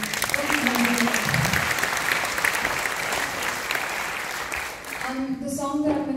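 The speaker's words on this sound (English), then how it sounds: "So I think we need to get another round of applause for" Applause from an audience at a Carnatic classical music performance in Hawke's Bay rises and holds for several seconds, with a voice speaking at the start and again as the clapping fades.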